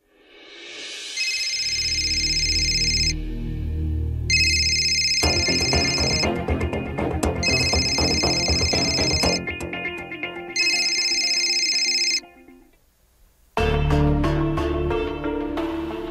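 A phone rings in a household scene of a Hindi TV drama, its loud electronic ringtone melody repeating for several seconds, pausing briefly, then starting again, with no talking.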